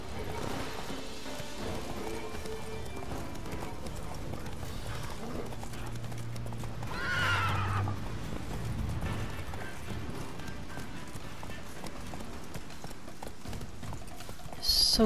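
Horse hooves clip-clop steadily through a busy soundscape in the video game The Witcher 3: Wild Hunt, with a brief whinny midway and occasional clunks, under a dense mechanical backdrop.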